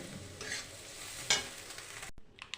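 Carrot, onion and bean mixture, already fried, being stirred into a batter for saj pitha, giving a steady close wet scraping and stirring with a sharp clack near the middle, then a brief pause and a few light taps.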